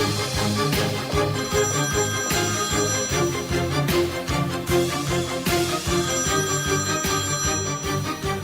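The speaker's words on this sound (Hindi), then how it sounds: "तुम फोन नहीं उठाओगे?" A telephone rings in a Hindi-dubbed drama scene, its bell repeating in regular bursts over a steady bed of music throughout.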